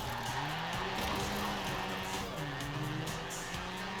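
Tires squealing as a car drifts in the racing video game Forza Horizon 4, with a continuous engine roar whose pitch rises and falls over sustained skidding screech, loud and steady.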